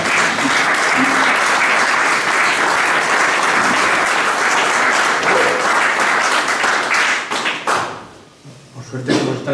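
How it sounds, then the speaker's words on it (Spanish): Dense, loud clapping from the audience at a book presentation on contemporary Basque history and politics carries on for about eight seconds, then breaks off into a few scattered claps. "con nuestros aplausos, si estoy de acuerdo,"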